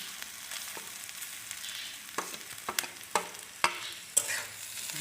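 Grated coconut with a bay leaf fries in oil for coconut laddu, giving a soft, quiet sizzle punctuated by several distinct scrapes and knocks of a spatula against the pan.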